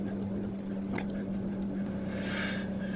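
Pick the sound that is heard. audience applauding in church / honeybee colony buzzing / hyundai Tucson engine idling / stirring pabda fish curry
hyundai Tucson engine idling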